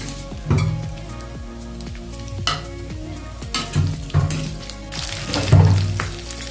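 Chopped onions frying in hot oil for Naga-style pork, a steady close sizzle punctuated by repeated stirring scrapes and clatters of a spoon in the pan, with no voices.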